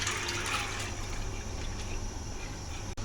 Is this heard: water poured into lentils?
yes